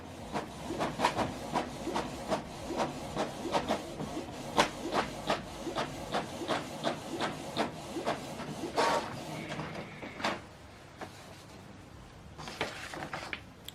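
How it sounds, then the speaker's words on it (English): A Canon TR7650 inkjet printer runs through a document, a series of regular mechanical clicks and whirring strokes roughly every half second, then slowing into softer motor hiss near the end, close and moderately loud with no talking. "Now this document is printing."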